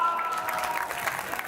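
Audience applause at a live Hindi comedy and satire show, a dense, steady patter of clapping from a crowd, continuous and fairly loud through the whole short stretch.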